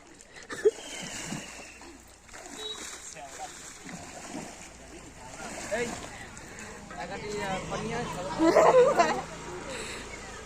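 Water splashes and sloshes as several people wade into a village pond to clean it, with people talking throughout and a louder burst of splashing near the end.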